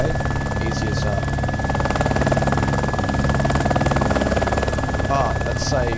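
A helicopter in the military game ArmA 2 flies with a loud continuous rotor drone and engine whine, steady and close, while a person talks over it.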